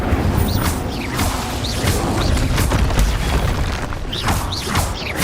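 A fire spell cast in Hogwarts Legacy bursts out as a booming whoosh, with repeated crackling flares and swishes over a low rumbling background.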